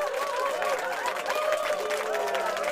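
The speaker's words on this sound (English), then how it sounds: "Can we give our Lord and Savior Jesus Christ a hand clap of praise" A church congregation gives a round of hand claps in praise of Jesus Christ, a steady dense clatter of many hands that carries on throughout, mixed with sustained musical tones and voices.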